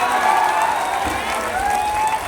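A political rally crowd applauds in a steady, dense wash of clapping and cheering, with a voice carrying over the noise.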